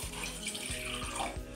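Water runs steadily from a tap into a tumbler, a continuous close splashing stream at moderate volume with no voices over it.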